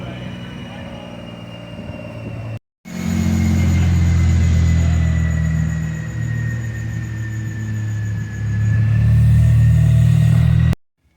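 A car runs on a dynamometer in a busy workshop, a loud sustained engine roar with a rising tone, holding steady for several seconds after a brief break, with faint talk in the background.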